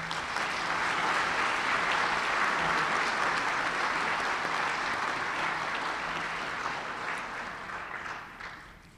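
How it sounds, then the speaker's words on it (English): A round of applause fills a commencement ceremony hall, with a large audience clapping steadily and densely for several seconds before slowly tapering off, with no voices over it. "Let's give them a round of applause."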